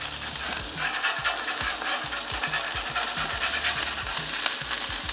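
Burgers sizzle steadily on a Blackstone flat-top griddle while a metal spatula scrapes underneath them and flips them, giving a dense, continuous frying hiss broken by repeated scraping strokes.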